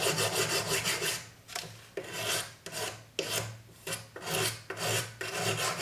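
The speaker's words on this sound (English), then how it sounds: "I'll go straight into my sanding sticks" Sanding sticks rubbed back and forth across a sterling silver cuff bracelet with gold rivets, a steady close rhythm of short gritty rasping strokes, about eight passes with brief gaps.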